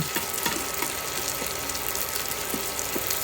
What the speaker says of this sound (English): Make sure you keep that rice moving around, guys. Get it good and crispy, good and brown.